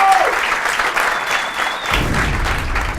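A television show audience applauding, loud and continuous clapping with a brief vocal tone at the start and crowd murmur underneath.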